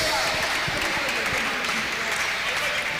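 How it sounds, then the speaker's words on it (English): An audience at a NIVEA MEN soccer finals event applauds the brand ambassador with sustained, even crowd clapping that fills the whole stretch. "Can you guys give him a round of applause, guys?"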